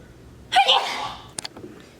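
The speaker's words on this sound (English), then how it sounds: "Oh no, sneeze." A single sneeze bursts out close by, a sharp breathy blast that trails off, followed by a couple of brief soft sounds.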